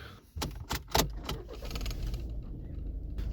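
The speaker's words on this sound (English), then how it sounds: "I'm gonna start the engine" Keys jangle in the ignition of a Volkswagen Passat with a 1.6 TDI diesel engine, and a brief crank gives way to a steady, low diesel idle close by.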